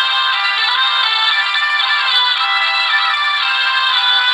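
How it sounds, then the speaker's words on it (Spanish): A hurdy-gurdy plays with its crank turned, giving a continuous droning, buzzing bowed tone with a melody line on top, loud, close and unbroken, with no voices. "Qué instrumento interesante que es el arca de rueda. O la viola de rueda"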